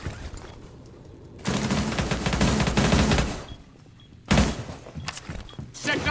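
A Nitro Cell detonates during a competitive tactical shooter esports match, a sudden loud blast that begins a dense, rattling burst of gunfire. A second sharp, heavy bang follows several seconds later.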